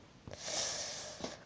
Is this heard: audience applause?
no